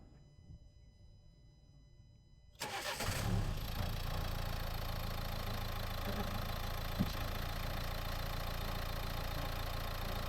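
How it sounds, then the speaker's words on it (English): A Nissan Juke engine cranks and catches about two and a half seconds in, then settles into a steady, close idle that runs to the end after a quiet start. "We're gonna start the engine."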